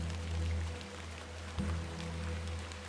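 Steady rain falls in The Excavation of Hob's Barrow, a continuous soft hiss over a low, constant hum, with a brief dull knock partway through and no voices.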